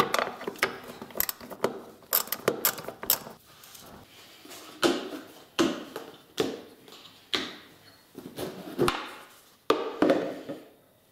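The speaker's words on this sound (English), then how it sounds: "this 10 millimeter bolt's got to come off to allow that air box to slide back" A ratchet works a 10 millimeter bolt off a Honda Rancher Fourtrax ATV near the air box. Sharp close clicks and clunks come in irregular repeated bursts over about eleven seconds.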